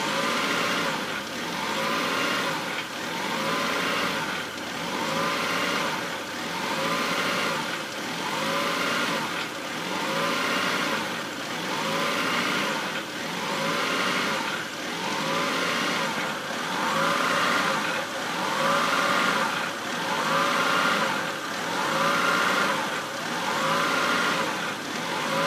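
A 2002 Honda Accord with a 2.3-litre engine running, its moderate hum pulsing in a regular, evenly spaced rhythm about once every two seconds, with no one talking.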